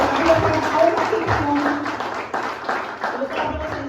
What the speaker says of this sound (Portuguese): Aplauda a vida dos nossos pastores essa manhã.